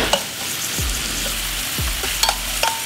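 Jalapenos and onions sauteing in a pan with chili oil, a steady close sizzle with a couple of stirring scrapes and small clinks throughout.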